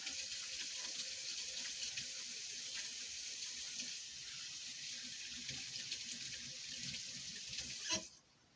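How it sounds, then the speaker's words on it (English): A kitchen tap runs steadily as hands are washed while baking soda bread muffins, a continuous close water hiss that stops abruptly near the end. "I'm gonna wash my hands."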